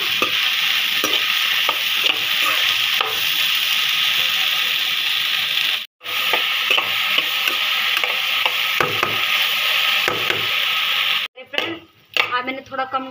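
Food fries in a little oil seasoned with salt, coriander powder and red chilli powder, giving a steady close sizzle with stirring scrapes, a brief cut-out midway and clattering near the end.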